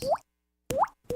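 Water drips in a slow, uneven rhythm: two clear plopping drops with a pause between, then a third starting, close and distinct.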